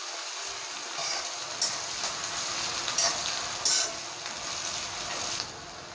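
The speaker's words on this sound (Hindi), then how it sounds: "अब हम इसमें अनियन ऐड करेंगे, इसे लाइट ब्राउन होने तक हम फ्राई करेंगे।" Onions sizzle and fry in hot oil with whole garam masala, a steady close crackle and hiss with occasional stirring scrapes and no talking.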